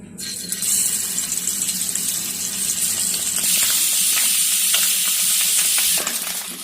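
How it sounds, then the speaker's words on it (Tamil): Loud, steady sizzling of eggs frying in hot oil, a continuous crackling hiss with a few sharper pops and clinks near the end. "இப்போ நம்ம அதை எண்ணெயில் போட்டு எடுக்கலாம்."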